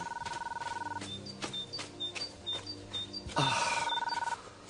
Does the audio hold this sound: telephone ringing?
yes